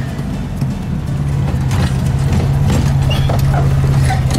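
Air-cooled VW Super Beetle engine held at high revs while driving, a steady loud droning hum with a rough rattle, close and continuous with no talk.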